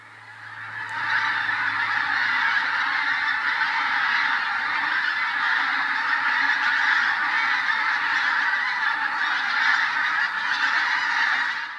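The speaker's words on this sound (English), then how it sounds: "It was a gaggle of geese, at least a couple hundred strong. The sound was absolutely deafening." A large gaggle of geese, a couple hundred strong, honks loudly and continuously beside the Union Canal, a dense, overlapping chorus that rises quickly and holds steady throughout.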